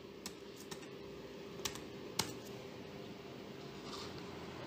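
A few sparse keystrokes are tapped on a laptop keyboard, faint clicks spaced irregularly over a low steady room hum, close but quiet, with no talk.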